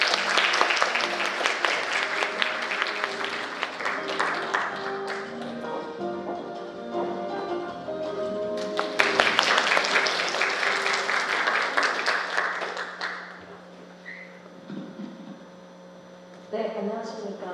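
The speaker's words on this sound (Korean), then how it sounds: "뜨거운 박수로 맞이해주시기 바랍니다." An audience at a student mock national assembly applauds to welcome the organizing committee chair, with a dense, sustained wash of clapping that swells, then fades over a steady mains hum.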